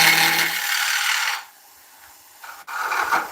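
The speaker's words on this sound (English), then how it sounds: "3/8 ball gouge." A 3/8 ball gouge cuts a rustic oak fruit bowl on a lathe, a loud steady rasping scrape that drops away briefly mid-clip before the cutting resumes with a sharp tick.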